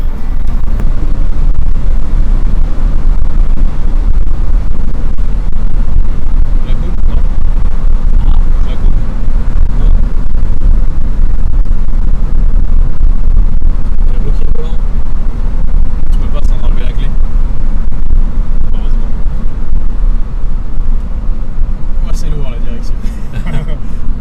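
An Aston Martin DB7, freshly topped up with water after a coolant leak, drives steadily with a continuous loud engine and road rumble throughout, with voices talking over it.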